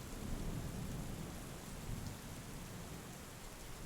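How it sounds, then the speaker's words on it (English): Steady rain pours down in a dense, even hiss with a low rumbling undertone, continuous and moderately faint throughout, with no voices. "What makes the sound of the rain so peaceful, so relaxing?"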